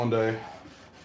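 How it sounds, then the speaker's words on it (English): A short, rough rubbing rasp of sandpaper on wood, loudest at the start and fading over about a second, close by with no talking. "we are doing a hand sanding shenanigans stream"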